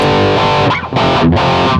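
Electric guitar through a factory overdrive preset on a multi-effects unit, loud gritty distorted chords struck twice with a short gap between them.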